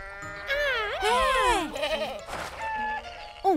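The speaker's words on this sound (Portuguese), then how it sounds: "Um bode?" Cartoon goat bleating, a series of wavering, quavering cries that swoop up and down in pitch, loud and close, with a short final bleat at the end.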